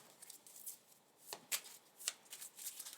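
A deck of tarot cards being shuffled close up, with soft repeated riffling and flicking of cards in quick bursts over a few seconds, fairly quiet.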